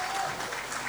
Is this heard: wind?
no